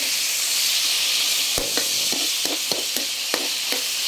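Pork liver frying in a pan with oyster sauce, a steady close sizzle with repeated scraping strokes of a stirring utensil in an uneven rhythm, and no talk.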